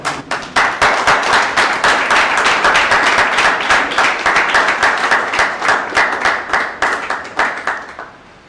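A crowd applauds loudly and steadily for several seconds, dense clapping that thins and fades out at the end.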